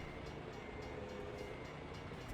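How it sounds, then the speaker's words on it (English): A passing train in the American Truck Simulator game makes a steady, dense rumble and roar that fills the whole stretch with no distinct horn blasts and no voices. "There's a train."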